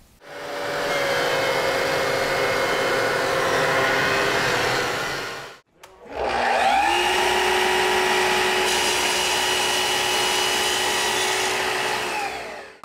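A thickness planer mills walnut boards in two passes, each a loud steady whine and rush of cutting with a sharp stop and a short gap between them. The second pass starts with a rising motor pitch.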